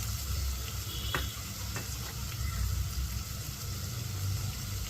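Chicken pieces frying in a pan with coriander powder, cumin powder and garam masala, a steady dense sizzle with a few brief clinks of stirring throughout.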